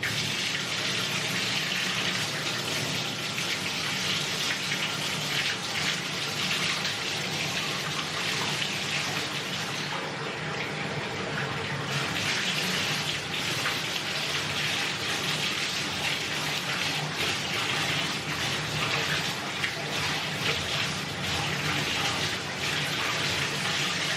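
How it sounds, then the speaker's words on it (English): Tie-dyed clothes are rinsed under running water, producing a steady, close, loud rushing splash that continues throughout with no talking. "Let's see what happens when we rinse it off."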